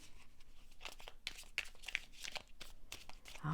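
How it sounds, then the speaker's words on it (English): Tarot cards are shuffled in quick, crisp bursts of papery riffling and flicking, several clusters in a row, close and fairly quiet. "All that shuffling."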